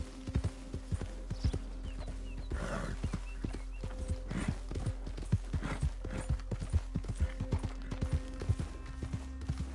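A horse's hooves clip-clop steadily in Red Dead Redemption 2, with a brisk, continuous run of close hoofbeats, an occasional whinny and faint background game ambience.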